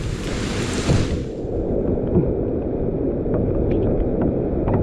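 Duduma waterfall, swollen by monsoon rains, roars in a dense, unbroken rush that fills the air, loud and steady throughout with a faint hiss of wind over it.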